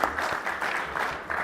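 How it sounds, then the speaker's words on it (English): An audience at an executive speaker-series event claps together in a short, steady burst of applause filling the room. "let's give them a hand of applause"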